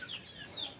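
Chickens cluck in a couple of short, soft calls, faint and slightly distant against a quiet background.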